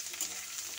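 Spinach-like greens stirred into fried onion in a pan sizzle steadily close up, a continuous hissing fry with soft scraping under it and no talking.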